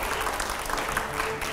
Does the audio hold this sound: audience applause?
yes